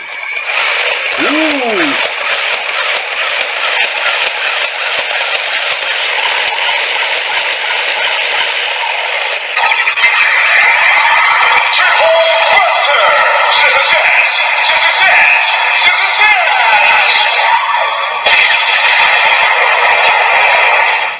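Loud electronic effects from the DX Triple Zeztzer Kamen Rider ZEZTZ toy weapon play continuously, with buzzing synthetic tones and whining sweeps that shift character partway through, with no speech.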